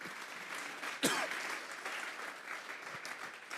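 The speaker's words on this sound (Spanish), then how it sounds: "Vamos a darle un fuerte aplauso" A church congregation applauds during a sermon, a quiet, steady spread of many clapping hands heard from a distance, with one brief louder burst partway through.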